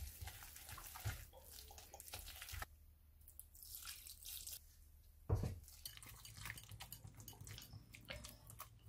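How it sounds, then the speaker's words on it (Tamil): Water poured gradually into rava idli batter made with semolina and yogurt in a bowl, a soft running trickle with splashy bursts and a sharp knock near the middle, fairly close with no talking. "இதுக்குள்ள நான் தண்ணி கொஞ்சம் கொஞ்சமாக சேர்க்க போகிறேன்."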